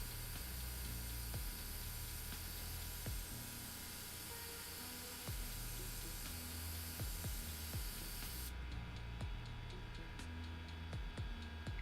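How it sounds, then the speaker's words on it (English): Compressed air hisses steadily through an airbrush nozzle held between fingers, a broad continuous spray that stays loud for the whole stretch with small ticking clicks, cutting off sharply near the end. "I stuck the nozzle of the airbrush between my fingers and just hit air through it"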